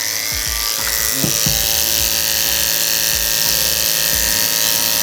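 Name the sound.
electric hair clipper blade running on sharpening block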